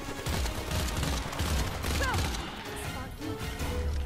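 Enemy gunfire in the shooter game Earthfall crackles as dense, continuous rapid shots in a loud, busy mix, with a brief swooping tone partway through.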